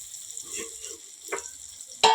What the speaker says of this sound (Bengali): এবার ম্যারিনেট করা চিকেনটা দিয়ে দেবো